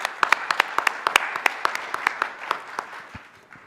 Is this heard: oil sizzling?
no